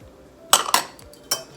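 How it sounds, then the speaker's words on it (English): A utensil stirs shrimp sauce with lemon juice in a dish, giving three short clinks and scrapes against the dish, close and fairly clear, with quiet gaps between them. "Give that a stir."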